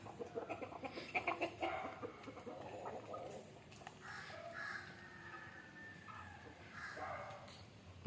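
Country chickens cluck and crow nearby in a farmyard, a busy run of calls and clucks that is louder at first and then settles into quieter, scattered clucking, with no one speaking.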